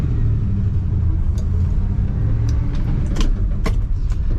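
A 1965 Chevrolet Chevelle Malibu Sport Coupe's engine idles with a steady, smooth low rumble, close and even throughout, with a few faint light clicks and taps over it.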